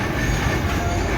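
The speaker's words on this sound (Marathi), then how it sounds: "मालगाडी आली आहे समोरून" A freight train on the Konkan Railway passes near Adavali station, giving a dense, continuous low rumble of wagons that runs unbroken through the moment.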